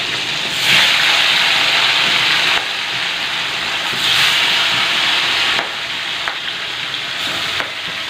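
Big fish frying in hot oil, a loud, close, continuous sizzle that swells and eases in waves, with faint clinks and stirring noises.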